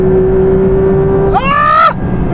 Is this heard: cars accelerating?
yes